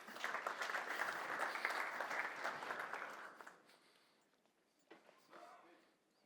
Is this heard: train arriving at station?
no